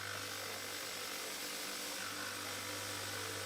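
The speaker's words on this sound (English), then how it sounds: "putting it on the sander now to sand up all the box joints" A power sander runs continuously on maple box joints, a steady dense whine and hiss at constant loudness with no pauses or talk.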